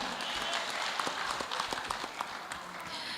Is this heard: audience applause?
yes